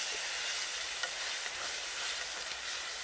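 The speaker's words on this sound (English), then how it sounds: "We fry the onion at not too high temperature until it becomes golden and soft" Onion frying gently in a pan over moderate heat, a close, even, unbroken sizzle with faint crackles and no voices.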